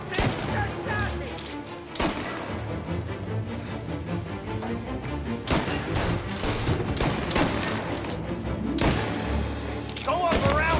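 Gunfire in Mafia Definitive Edition: repeated sharp volleys and thuds crackle over a rain-like wash of combat noise, with voices talking through it.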